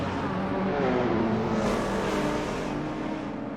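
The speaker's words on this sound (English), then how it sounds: "there's a lot of horsepower on the track right now. And we are off." Race cars launching at the start of a race in a racing video game, a dense wash of engine roar and revving that swells loudly and then eases slightly, with several cars blending together and no talk over it.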